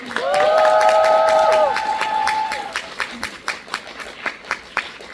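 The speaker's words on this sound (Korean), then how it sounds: "그동 고생해 주신 우리 새 배우분들께 다시 한번 큰 박수 부탁드리겠습니다." A theatre audience cheers and applauds the new cast at a closing-show stage greeting for a musical, with loud high-pitched shouts over clapping that fade within seconds into sparse, separate claps.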